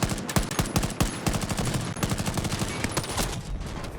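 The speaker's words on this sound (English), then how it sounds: "Gun sounds are frequently compressed and out of sync, making them feel less satisfying to shoot." Rapid automatic gunfire fills the Battlefield 2042 beta video game, with loud overlapping bursts of shots in fast, uneven rhythm, dense and continuous throughout.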